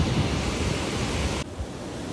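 Rushing river water heard from a hanging bridge in Kerala, a loud continuous roar of broadband rushing that drops noticeably near the end, with no talk.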